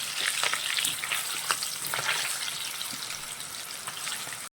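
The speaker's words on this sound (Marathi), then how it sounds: "मस्त आपले तळले जात आहेत" Continuous close crackling sizzle of dal-and-cabbage fritters and green chillies deep-frying in hot oil, with scattered spitting pops over a bright hissing bed, ending abruptly.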